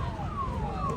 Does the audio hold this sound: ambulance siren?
yes